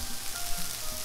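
Bread sizzling in a frying pan in the video game I Am Bread, a soft steady frying hiss with faint tonal game sounds beneath, brief and alone.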